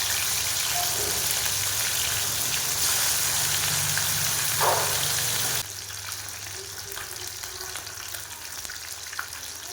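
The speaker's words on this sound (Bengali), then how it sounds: "মাছগুলো ভাজা ভাজা হয়ে এসছে" Catla fish pieces, rubbed with turmeric and salt, fry in hot oil in a wok with a steady, close, dense sizzle and crackle throughout, a brief stirring scrape midway, and the hiss dropping somewhat quieter toward the end.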